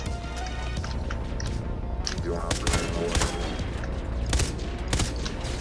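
Shotgun blasts from the game Far Cry 3: Blood Dragon, several sharp bursts spread irregularly over dense in-game action and background noise, with talk mixed in.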